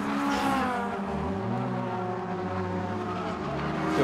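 Civic Cup race cars crossing the line at Oulton Park, heard from the pit wall as a loud, continuous roar of several engines blending together with rising and falling pitch as they pass close by.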